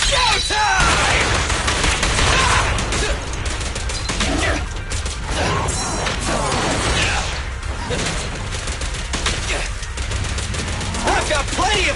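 Rapid bursts of gunfire in the video game Zenless Zone Zero, loud and dense with clattering mechanical clicks and impacts, mixed with character voices and game effects.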